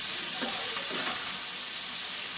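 Onion and garlic fry in a pan of hot oil with a steady, loud sizzle and a broad hiss that stays even throughout, stirred lightly, with no talking.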